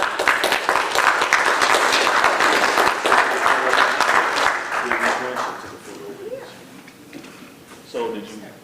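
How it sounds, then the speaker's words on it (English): Sustained, loud applause from a city council meeting audience in Waynesville, Missouri, lasting about five seconds before tapering off, followed by people talking. "everybody give them a big round of applause"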